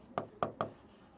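Pen writing on paper during a biology revision lesson, three quick soft scratchy strokes in a row, faint and close, with no talking over them.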